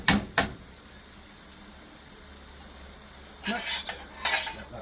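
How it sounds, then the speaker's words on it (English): Chicken jalfrezi ingredients sizzle in a British Indian restaurant style pan, with a few short scraping bursts of stirring and utensil clatter at the start and near the end over a steady low frying hiss. "let that sizzle away"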